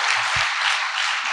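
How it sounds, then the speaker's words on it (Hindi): An audience at a network marketing seminar in India gives a brief, dense burst of applause lasting just over a second. "एक जोरदार तालियां होनी"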